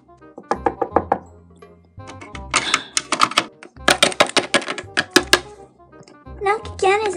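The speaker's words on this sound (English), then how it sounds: "Knock again, Isabel." Rapid clusters of sharp knocks on a door in a Halloween skit with toy figures, several bursts of four to six raps separated by pauses, with a voice speaking in between.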